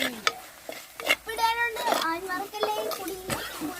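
Soft scraping stirs and a light sizzle come from Kottayam-style murrel fish chili curry cooking in a pan. They sit close and low under continuous talk from adults and children.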